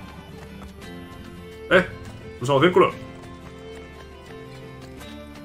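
Horse hooves in Assassin's Creed: Brotherhood, two short bursts of clip-clop steps over a steady game music bed, with someone speaking in Spanish over it.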